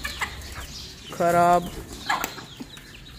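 A hen gives one short, clear cluck, with a few fainter clucks around it, heard under people talking at a home flock where spoiled eggs are given to the chickens.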